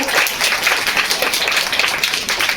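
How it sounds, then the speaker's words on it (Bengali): A crowd of children claps together at a school Teacher's Day prize giving, a dense, steady burst of applause that stays fairly loud throughout without fading. "হাততালি, সবাই জোরে হাততালি দাও।"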